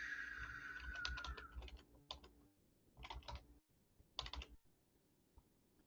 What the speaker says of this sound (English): we typed all that in